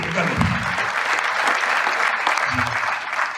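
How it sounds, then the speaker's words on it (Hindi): A room full of people claps steadily and enthusiastically, a dense continuous wash of applause with a few low voices faintly underneath. "जोरदार तालियां"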